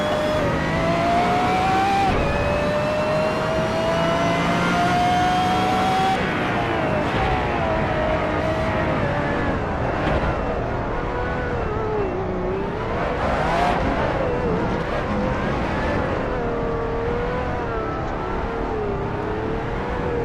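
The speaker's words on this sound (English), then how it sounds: "God, the noise this vehicle makes." A car engine revs hard and pulls away, the tone climbing then dropping as it shifts and drives on, loud and close with gritty road and wheel-well noise, no talking.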